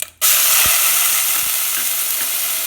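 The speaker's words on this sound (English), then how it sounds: "Then in the same pan I have added the grating of bottle gourd." Grated bottle gourd sizzles loudly in hot ghee in a pan, a dense steady frying hiss that starts abruptly, with faint stirring knocks underneath and no talking.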